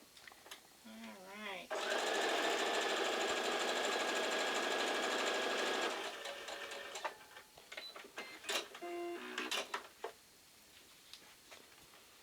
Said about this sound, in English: sew this half together.